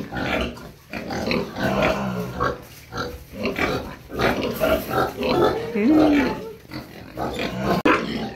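Several pigs on a farm, including a sow, grunt and snort close by in a continuous, uneven chorus, with a few higher squeals mixed in.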